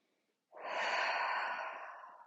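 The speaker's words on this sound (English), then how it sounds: "Take a deep breath." A single deep breath drawn in and slowly released, soft and close, beginning after a brief silence and fading gently at the end, during a Pilates session for pregnancy.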